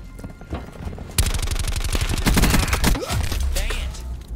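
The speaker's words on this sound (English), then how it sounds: "Who's shooting at me there?" Rapid automatic gunfire in Black Ops 4 multiplayer, a sustained burst of loud fast shots after a brief quieter lead-in, with a few game effects at the end.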